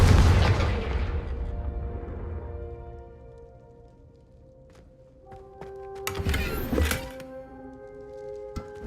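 A Confringo fire spell goes off in Hogwarts Legacy: a loud blast with a booming thump that rings out and decays over a few seconds, then a second burst of crackling impact sounds follows later, with no talking.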